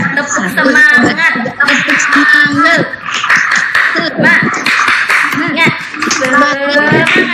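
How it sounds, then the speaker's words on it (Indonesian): A school class claps along in a lively rhythmic 'tepuk semangat' routine, hands beating in quick patterns under children's chanting, laughter and a teacher's voice, close and loud throughout. "ayo kita sama-sama tepuk semangat ya. 1, 2, 3, tepuk semangat."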